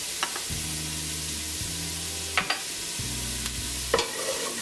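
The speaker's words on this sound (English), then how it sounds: "So I've got the onions in there, they're just sweating off, and I'll just add in the dry chili." Onions sweat in a pan as dry chili goes in, a soft continuous sizzle with a few light clicks and scrapes of stirring, plus a low steady hum in the background.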